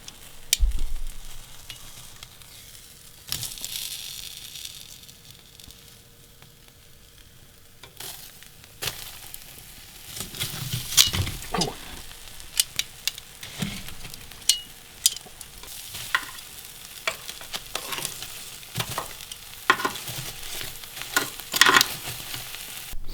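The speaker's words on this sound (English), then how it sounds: "It's only a short little fast fry" A steak sizzles and crackles as it fries on hot coals outdoors, a steady close hiss with scattered pops and scraping that grows busier toward the end, and no voices.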